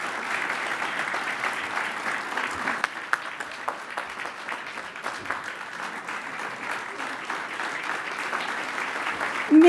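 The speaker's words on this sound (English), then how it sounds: "Let's give her a round of applause." Sustained applause from a large audience at a keynote address, dense steady clapping filling the room for several seconds, with faint crowd murmur underneath.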